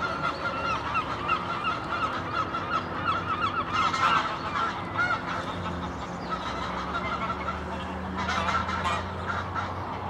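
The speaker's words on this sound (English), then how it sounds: "I think it's a goose that's making all that racket" Geese honk repeatedly and loudly on a countryside walk between Hassocks and Brighton, England, a noisy overlapping chorus of calls with a few louder bursts, no talking.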